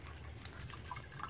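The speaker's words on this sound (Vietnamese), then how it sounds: "Mình quay lại mà cái hồ mình đang xả nước." Water drains steadily from an eel farming tank in a mud-free setup, producing a faint continuous trickling and gurgling flow with small splashy drips, heard alone with no talking.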